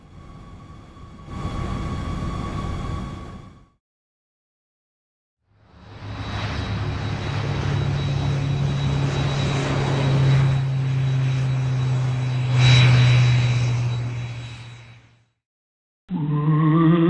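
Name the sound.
jet airliner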